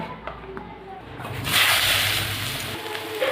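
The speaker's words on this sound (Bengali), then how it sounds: "বেগুনগুলো এবার ভেজে নেব।" Eggplant slices dropping into hot oil for frying: a soft, close hiss that swells into a louder, sustained sizzle after about a second and a half.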